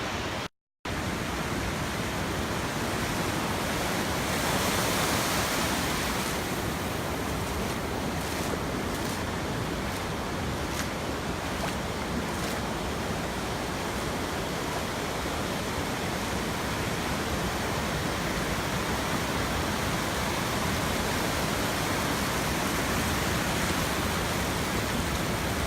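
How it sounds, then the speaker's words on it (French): Sea waves at the seaside keep up a loud, steady roar of surf mixed with wind buffeting the microphone, constant and broad with no clear breaks between waves and no talk. "je vais vous montrer un petit peu la mer"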